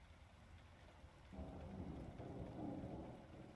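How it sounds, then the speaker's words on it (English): A video game thunderstorm plays at low volume, with quiet rain hiss and a low thunder rumble that swells partway through and stays up, heard with no talking over it. "And the storm's still going on."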